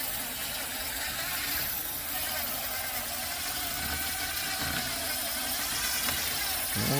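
A handheld drill spins sandpaper against a plastic headlight lens, giving a steady, close, gritty whir that continues evenly without pause.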